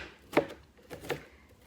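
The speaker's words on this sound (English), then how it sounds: "I will just chop this onion" A knife chops an onion on a chopping board: two distinct, sharp cuts roughly three-quarters of a second apart, close up in a quiet kitchen.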